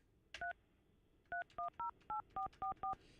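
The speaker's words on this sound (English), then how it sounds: "All right, calling Fester right now" Telephone keypad dialing tones during a live morning radio show, one short tone followed by a pause and then seven more quick dual-tone beeps in a steady sequence, clear and close with no talking.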